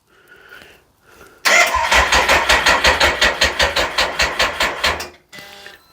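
A VW Golf with a flat battery cranks over slowly: a long burst of rhythmic, laboured starter whirring pulses, close and loud, without catching, followed by a click and quiet.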